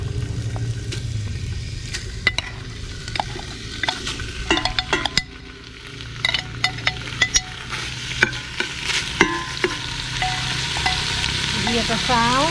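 Curry paste for Thai hung lay curry fries in oil, a continuous close sizzle broken by frequent scraping and clinking stirs of a utensil against the pan, with no one speaking.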